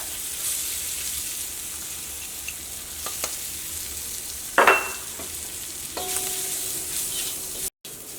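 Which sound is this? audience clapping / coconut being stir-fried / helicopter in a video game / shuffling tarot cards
coconut being stir-fried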